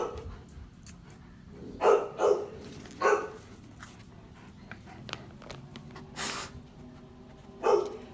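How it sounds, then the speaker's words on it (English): Dogs in a house bark in several short sharp bursts, with whimpers and yips between them, close but fairly quiet over a low background hum. "Oops, you'll have to excuse my dogs."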